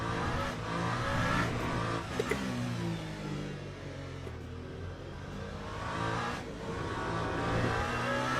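A race car engine in Le Mans Ultimate, a sim racing game, on the Bahrain circuit, drones steadily and loud throughout, with the pitch rising and falling through acceleration and gear changes and no voices over it.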